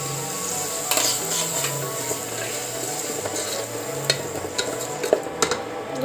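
Spice masala sizzles and fries in a pan for a Bengali cauliflower and potato curry, a steady close crackle with occasional spoon clinks and scrapes against the pan, and faint background noise underneath.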